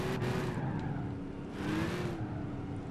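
A car drifting in Gran Turismo 5, with a steady engine drone and a faint tire squeal rising and falling over about three seconds, loud and close with no voices.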